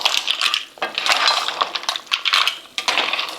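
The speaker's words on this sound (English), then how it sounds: "and give it a quick stir." Mussel ginger soup (tinolang tahong) gets a quick stir in a pot over medium heat, the ladle clattering and clinking against the metal in close, brisk, irregular scrapes.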